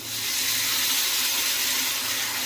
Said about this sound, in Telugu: నేను నానబెట్టి చింతపండు రసం కొంచెం దీంట్లో పోస్తున్నాను